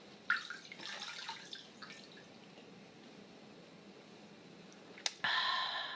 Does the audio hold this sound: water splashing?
yes